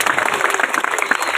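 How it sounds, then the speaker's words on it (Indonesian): Applause from the audience at an Islamic Isra Mi'raj public sermon gathering, a dense, steady wash of many hands clapping throughout the short burst. "Tepuk tangan dulu semuanya."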